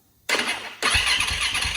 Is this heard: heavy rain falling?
no